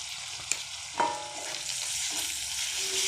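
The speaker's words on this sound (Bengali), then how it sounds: "এবার রসুন পেস্ট দিয়ে একটু নাড়াচাড়া করে রসুনটাকে একটু ভেজে নেব।" Garlic paste sizzling with onions in hot oil in a pan, a steady close frying hiss with a couple of soft stirring knocks early on, no voices.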